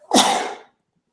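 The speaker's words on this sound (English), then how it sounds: "Sorry, guys, sneezing." A single loud, close sneeze bursts out and fades quickly into silence.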